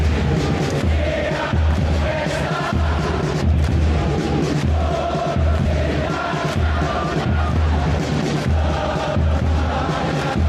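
A steady stadium crowd in eFootball PES 2021 roars and cheers throughout, a dense, continuous wash of many voices with a rhythmic chant-like pulse underneath.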